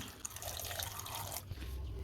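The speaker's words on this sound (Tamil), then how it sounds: "இப்போ இதில் கொஞ்சமாக தண்ணி சேர்த்துருவோம்" Water poured from a container into a pressure cooker holding potatoes, chicken and salt, a steady splashing trickle running close and continuously for about two seconds with no talk.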